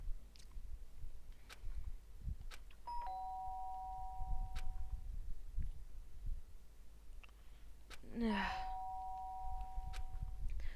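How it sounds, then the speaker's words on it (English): A doorbell rings twice in a Danganronpa video game, each a clear two-tone electronic chime over quiet background game noise and scattered small clicks. "The sharp sound of the doorbell pierced my sleepy haze and pulled me back to the real world."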